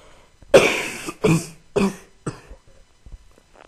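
Several harsh coughs and throat clears come close together, loud at first and then tapering off into fainter ones.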